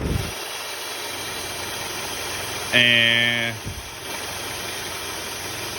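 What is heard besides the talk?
car engine running under load during A/C diagnosis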